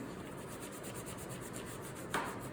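Continuous rhythmic rubbing, a cloth scrubbing back and forth on a surface, close and steady, with a small knock near the end.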